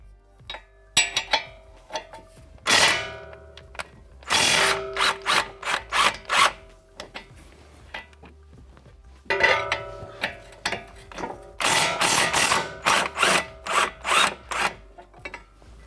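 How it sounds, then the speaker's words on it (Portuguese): A pneumatic tool works the lower strut nut on a 12th-generation Toyota Corolla in several sharp, loud bursts, clustered in two groups with quiet pauses between. "você pode utilizar a ferramenta pneumática para soltura, quebra de torque e soltura da fixação inferior"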